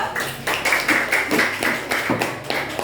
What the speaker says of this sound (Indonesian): Boleh tepuk tangan lah ibu guru.